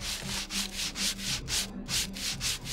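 Wood is sanded by hand with sandpaper in even, rhythmic back-and-forth strokes, about ten close, loud rasps with no talking.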